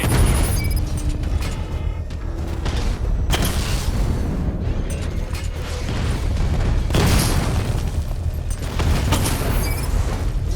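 A shot strikes an armoured Rattler vehicle in the video game Batman Arkham Knight, producing heavy booming impacts and deep rumbling explosions over a constant low mechanical drone, with sharp hits recurring every few seconds.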